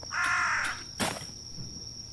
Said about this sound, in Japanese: カラスがいる